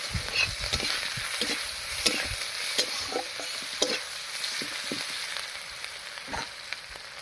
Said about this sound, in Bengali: এবারে মাছ ভাজার এই তেলের মধ্যেই ফোড়ন দেবো আর ফোড়ন দেবো গোটা জিরা আর পেঁয়াজ কুচি দিয়ে